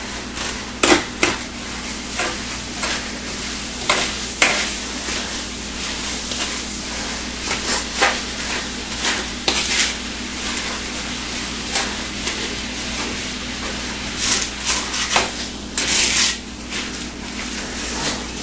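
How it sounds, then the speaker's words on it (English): Apples stirred in hot caramel produce a continuous soft sizzle with irregular scraping and spoon knocks against the pan, close and steady throughout with occasional louder bursts. "And stir it in carefully. Make sure you coat all the apples."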